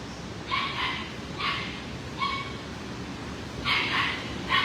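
Dogs in shelter kennels barking in short separate bursts, four distinct barks at moderate distance echoing in the enclosed space over steady background noise, with no talk.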